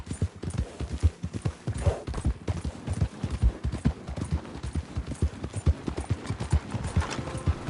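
Horse hooves clip-clop steadily in Red Dead Redemption, a close, continuous rhythmic clatter of hoofbeats carrying through the whole stretch without pause.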